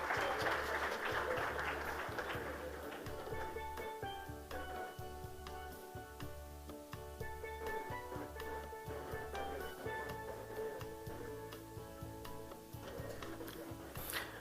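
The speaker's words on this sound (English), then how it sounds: "Give him a round of applause for partnering with us." Applause from the audience at a land settlement certificate distribution ceremony, a soft, distant patter of many hands over a steady low background hum and faint music, fairly even throughout.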